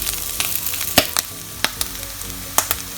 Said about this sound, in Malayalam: പിന്നെ വെള്ളമൊക്കെ വറ്റി ആ എണ്ണയിൽ കിടന്ന് ടോസ്റ്റ് ആകുമ്പോഴാണ് ഇങ്ങനെ പൊട്ടിക്കൊണ്ടിരിക്കുന്നത്